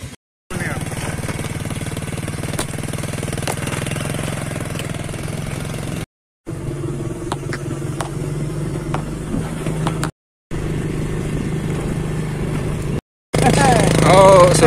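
Motorcycle ridden out of a village toward a fishing spot, its engine droning steadily at mid pitch in several long stretches separated by brief cuts, loud and close, with wind and a little talk near the end.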